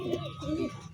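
A teddy pigeon gives a short, soft coo at close range, two low warbling pulses lasting about a second, with faint background noise around it.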